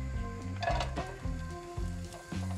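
Oil crackles in a pan with pancetta or guanciale for a courgette carbonara, a steady close sizzle with a brief louder spattering burst, while faint musical tones run underneath.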